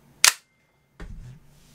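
A Tokyo Marui USP9 airsoft pistol fires a single sharp, loud crack on a cold night in Hong Kong, followed by a softer mechanical clatter and thud about a second later.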